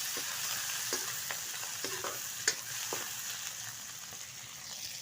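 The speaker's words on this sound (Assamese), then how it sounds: "তেজপাত আৰু পিঁয়াজটো ভাজি লওঁ ফাৰ্ষ্ট" Sliced onions and bay leaves frying in hot oil, a steady sizzle broken by scattered stirring scrapes and clinks of a spoon in the pan, close and without talk.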